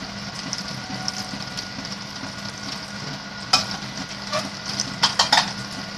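Rice is fried and stirred in a pan on a stove, giving a steady background sizzle with occasional scraping clatters of a utensil against the pan toward the end, with no voices.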